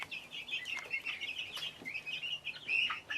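Barred Rock chick, about six weeks old, chirping in a quick run of high, thin peeps close to the microphone, fairly soft and with no talking over it.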